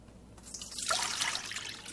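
Warm filtered water is poured into a bowl for sprouted wheat bread dough, a steady splashing stream that starts after a brief pause and runs continuously, close and fairly loud, with no speech.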